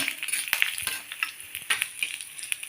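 Carrot and onion sauté in a pan for bun dosa, giving a soft, continuous sizzle broken by scraping stirs from a spoon, close and fairly quiet with no talk.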